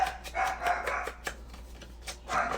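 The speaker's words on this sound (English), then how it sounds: "These are Dachshunds, and these dogs bark and bark and bark." Dachshunds barking in the background, several repeated sharp barks at moderate distance, some overlapping, with paper shuffling nearby.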